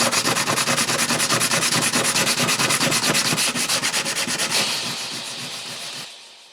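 A guitar neck inlay on a Harmony H1205 being sanded by hand with 150 grit sandpaper: steady, close rhythmic back-and-forth rubbing strokes that fade out near the end.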